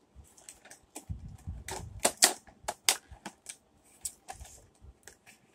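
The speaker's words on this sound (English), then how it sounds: "I mainly need to cut this part, probably." A Jakks Pacific Discovery Kids Gross Guts toy pig is being cut, producing a cluster of sharp, close snapping clicks and crunches that is loudest in the middle, then a few scattered softer snips.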